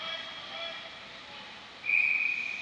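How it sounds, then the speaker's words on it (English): A referee's whistle blows sharply near the end, stopping play for an icing call in an under-18 AA ice hockey championship game, heard over a steady arena hum with no talk. "the play is whistled down on an icing call"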